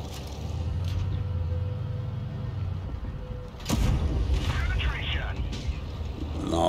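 Tank cannon shots and explosions in World of Tanks Blitz, a sharp booming blast midway followed by rumbling impact noise over steady engine drone, with someone talking throughout.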